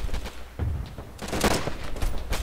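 Gunfire in the military shooter Arma 3 during a large battle, with several loud close shots and bursts overlapping a steady rumble of distant firing, sharp reports spaced irregularly across the moment.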